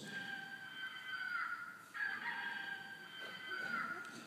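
A man imitates a rooster crowing with his own voice, giving two drawn-out, wavering crows in succession, close and fairly loud, with a slight break between them.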